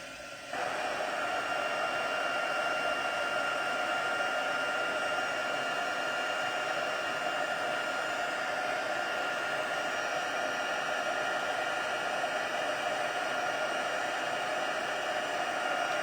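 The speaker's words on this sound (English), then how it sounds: "Taking my heat embossing gun a few minutes to warm up." A heat embossing gun blows hot air in a steady, continuous whoosh that starts at once and holds level throughout, close and fairly loud with no talking.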